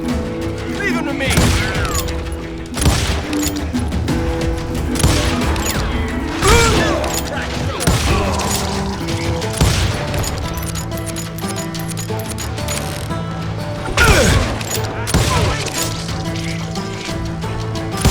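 Gunfire in the Western shooter video game Call of Juarez: Gunslinger, with repeated sharp shots and bursts ringing out over a backing music track, while voices talk throughout.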